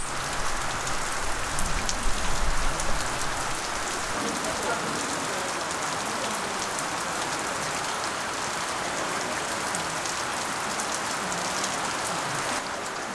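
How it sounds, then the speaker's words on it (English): Heavy rain pours down in the Himalayas on the Annapurna to Mardi Himal trek, a dense, steady hiss of drops hitting surfaces close by, constant and loud from start to finish with no talk over it. "and it's still raining"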